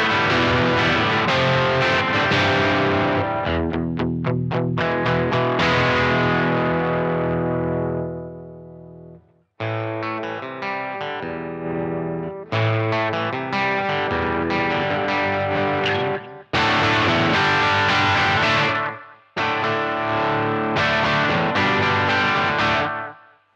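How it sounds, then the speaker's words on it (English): Electric guitar played through the dirty channel of an amp with the compressor off and an analog echo, giving distorted rhythm chords and ringing notes with trailing repeats, loud and close, in several phrases separated by short silences. "The dirty channel of my amp, and the compressor is off, and the analog echo, and this is what it sounds like."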